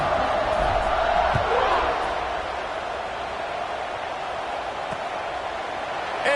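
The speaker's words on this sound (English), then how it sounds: "this crowd is buzzing after that last score" A large crowd buzzes in a football stadium just after a score in an Illinois versus Penn State game, a dense continuous roar that swells early, then settles to a steady distant wash with faint voices.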